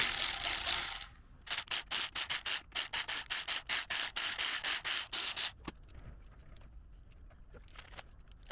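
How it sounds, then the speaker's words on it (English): A ratchet wrench with a 10 mm socket backing out clutch bolts on a 2004 Honda CRF150 engine, a quick run of close, even ratcheting clicks, then quieter fiddling with the loosened parts. "Next up, I'll take these 4 clutch bolts out. They're 10 mils."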